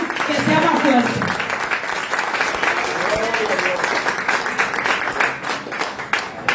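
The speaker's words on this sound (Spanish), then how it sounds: "Un aplauso para nuestro Dios." A church congregation applauds in praise of God, a dense, steady wash of clapping with voices and cheering mixed in throughout.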